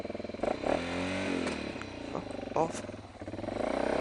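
A heavy motorcycle ploughs through deep gravel on a rural highway section, its engine revving and droning continuously, with crunching and clattering from the loose stones and a voice speaking briefly over it.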